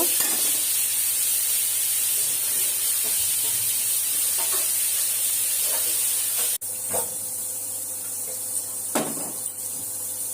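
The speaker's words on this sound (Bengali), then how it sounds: "পটলটা এখন ভেজে তুলে নেব।" Pointed gourd (potol) frying in hot oil gives a steady, close sizzle with faint clinks and a brief stir or cupboard knock partway through; no talk.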